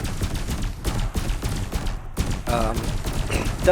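Rapid repeated cannon fire from a Fer-de-Lance ship in the space game Elite Dangerous, a string of punchy close bursts with a short gap midway, and a voice briefly audible underneath.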